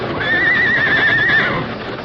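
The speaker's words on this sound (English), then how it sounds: "The Lone Ranger and Tonto kept one hand on their nervous horses while they peered through the cracks between the boards." Nervous horses whinny shrilly in a radio drama sound effect, one long loud neigh with a wavering pitch over a low rumble, fading out near the end.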